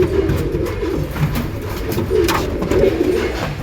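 Pigeons in a breeding loft coo softly and continuously, low overlapping throaty calls close by, with faint rustling and no talk.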